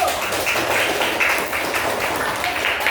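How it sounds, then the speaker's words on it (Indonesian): Classroom applause for a student discussion group, a steady patter of hand claps lasting a few seconds at moderate level. "Kita beri tepuk tangan untuk kelompok 1."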